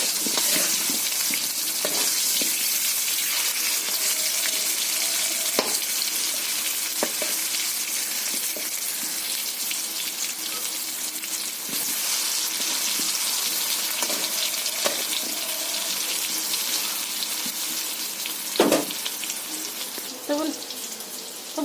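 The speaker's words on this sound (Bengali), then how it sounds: "তো বন্ধুরা আমি আলুটা ভাজতে বসিয়ে দিয়েছিলাম" Potatoes fry in a pan of hot oil, giving a dense, steady sizzle that is close and loud the whole way through, with a few sharp clinks and pops near the end.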